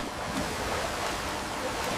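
Sea waves rush and surge against a sailing ship's dragon-headed prow, a broad continuous roar of churning water and spray with wind buffeting, close and steady with no voices.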